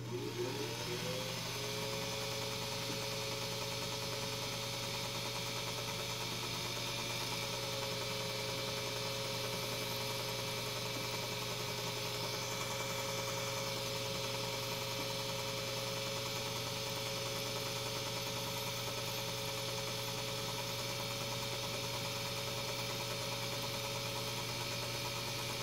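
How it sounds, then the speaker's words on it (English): A 1928 Dictaphone S-10 cylinder shaver shaves a wax cylinder with a steady, droning motor hum and a faint cutting whir. The sound runs continuously at even loudness throughout, with no talking. "Take it over to the right-hand side of the machine and shave it."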